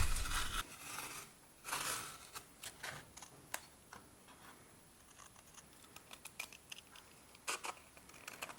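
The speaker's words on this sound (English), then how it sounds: "once you've glued it onto your card, you can then cut it out once more" Scissors cut out a leather pattern glued onto card, making faint, close, irregular crisp snips and ticks in a quiet room.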